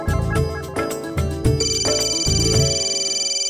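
A mobile phone rings with a looping musical ringtone, a bright repeating melody playing on its own at moderate volume.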